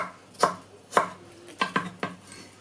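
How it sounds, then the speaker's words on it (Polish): Kitchen knife dicing deseeded cucumber into cubes on a board, five crisp chops in an uneven rhythm, two of them close together near the end, sharp and near with no talking. "wydrążamy sobie pestki na pół i kroimy w taką kosteczkę"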